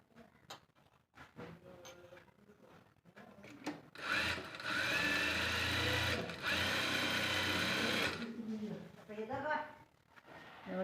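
A sewing machine stitches a blouse in a steady, rapid mechanical whirr for about four seconds, with a brief pause in the middle. Someone speaks before and after the run, with faint handling clicks.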